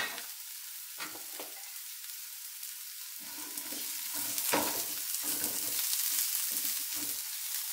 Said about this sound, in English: Get that olive oil going in there. And then just a little bit of onion.